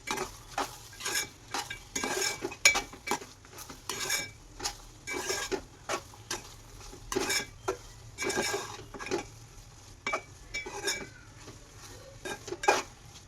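Semiya kesari with cashews and raisins being stirred in a pan, a spoon scraping and clinking against the metal in irregular bursts with a faint sizzle beneath, close and fairly quiet with no talk.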